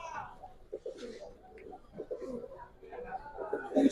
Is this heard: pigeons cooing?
yes